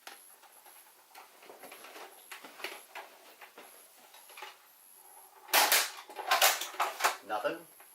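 A Jet Blasters ZRO foam blaster fitted with an Omni kit fires standard Elite darts indoors, giving a series of sharp snapping shots, quiet at first and then a louder rapid burst near the end.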